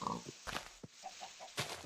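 Pigs in the video game Minecraft give short grunts and oinks, mixed with other brief farm-animal game sounds. The noises are quiet and sparse, scattered as a few separate bursts.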